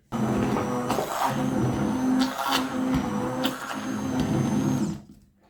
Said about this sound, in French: moi, je vais utiliser un presse-purée électrique